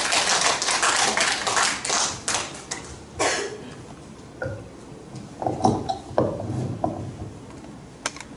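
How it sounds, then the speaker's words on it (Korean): Audience applause at a poetry recitation evening at a university lifelong-education centre: dense clapping for the first few seconds that thins into scattered, separate claps and taps before fading. "여러분 뜨거운 박수로 맞이해 주시기 바랍니다"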